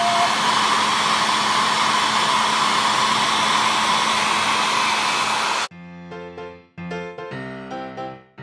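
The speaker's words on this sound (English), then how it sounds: "This is the amazing hairdryer. It works so well on the shrink wraps." A hair dryer blows loudly and steadily on shrink-wrap sleeves over Easter eggs for several seconds, then cuts off abruptly as bright music begins.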